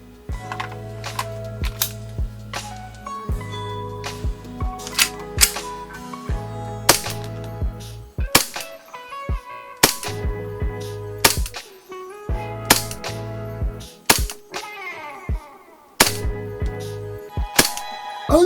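A G&G GPM1911 gas blowback airsoft pistol is fired over a chronograph in a series of sharp, loud cracks spaced a second or two apart, each with a snappy slide clack, under a low background hum.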